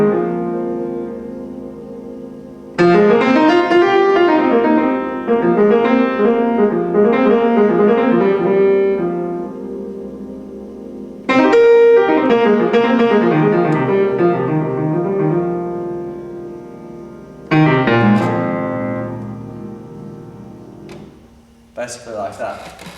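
Piano phrases ring out in three separate bursts over a held lowest octave, with the big bass strings resonating sympathetically and notes sustaining and decaying between the entries.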